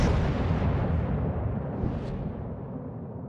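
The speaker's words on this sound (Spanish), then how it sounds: "Disparando a los cruceros con esto, tío." The German battleship Mackensen's main guns fire at cruisers in World of Warships, a huge close boom that rolls on into a long, dense, rumbling roar slowly fading out, with no voices.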